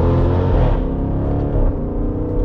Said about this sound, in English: I held the left paddle down and it will drop into the lowest possible gear that you can shift into